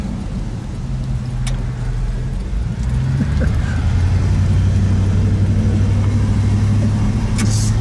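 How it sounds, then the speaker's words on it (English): A black 1963 Buick Electra 225 four-door hardtop drives and picks up speed, its engine droning low and steady from inside the car with the pitch shifting as it accelerates, plus road noise and no talk. "Let's take it out to something we can get it up to a little speed."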